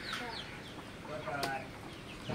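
Broiler chickens about 46 days old, large and heavy birds kept on a small farm, cluck and murmur steadily in a continuous flock chatter at moderate distance, with no one speaking.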